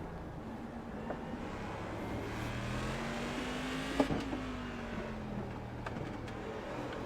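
A Cadillac CTS-V races at Okayama in iRacing, its engine note droning and shifting pitch steadily, with a faint sharp click partway through.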